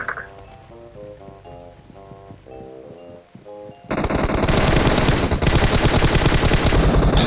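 Automatic gunfire in PUBG Mobile, loud rapid bursts of shots that begin partway through and continue as sustained, heavy firing after a stretch of quieter game sounds.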